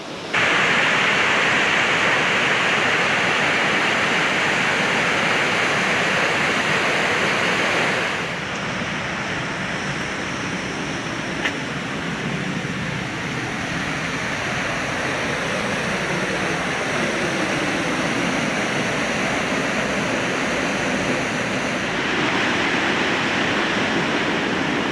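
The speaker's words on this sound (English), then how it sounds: "while this might not be the biggest waterfall I've ever seen, it's beautiful" Small waterfall tumbling into a gorge in autumn Perthshire woodland, a steady broadband rushing roar that holds close and constant, dipping slightly in level partway through, with no voices.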